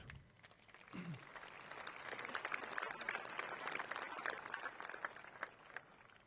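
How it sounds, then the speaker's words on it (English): A crowd applauds at a high school rugby capping ceremony: a dense, continuous patter of clapping that swells after the first second and holds steady, sounding somewhat distant and fairly quiet in a large hall. "Please give him a round of applause."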